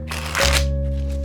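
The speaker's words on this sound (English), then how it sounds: "This is usually how I shuffle my cards, so it's a better shuffle" A new deck of playing cards is riffle-shuffled up close, a single brisk burst of flapping, fluttering card edges that stops within about half a second, leaving a steady low electrical hum underneath.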